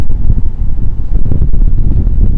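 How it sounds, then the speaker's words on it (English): Loud, low wind gusts of about 40 mph batter the microphone at night in downtown Miami, Florida, in a constant, pulsing rumble, close and overwhelming. "This is probably like 40 mile an hour wind gusts."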